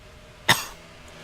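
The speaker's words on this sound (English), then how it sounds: "Sorry, there I had a little bit of a cough," A commentator's single sharp cough in a broadcast booth at a NASCAR Cup Series race at Phoenix, close and abrupt, followed by quiet.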